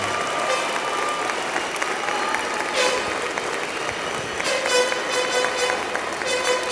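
Friends and family applauding a graduating class at a university convocation ceremony, steady sustained clapping from a large hall crowd with a few brighter cheers and whistles mixed in.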